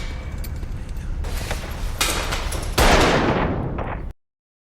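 Gunfire in a film scene: a rapid burst of cracking shots, with a sharper, louder volley near the end before everything cuts to silence.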